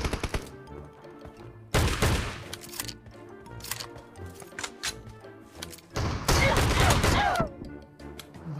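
Shotgun blasts from the mobile battle-royale game PUBG Mobile, a few sharp bursts with scattered quieter shots and clicks between, the loudest volleys arriving near the start and again toward the end.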